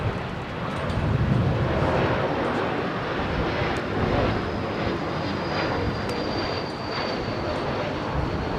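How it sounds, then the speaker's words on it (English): An Embraer E2 jet with Pratt & Whitney engines on approach at a windy Heathrow Airport; a broad, steady roar with wind buffeting, continuous and fairly loud. "This is the E2 with the Pratt & Whitney's,"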